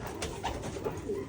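Racing pigeons arriving at a loft during a race, giving soft repeated coos that stand out over steady background ambience, close and moderately loud.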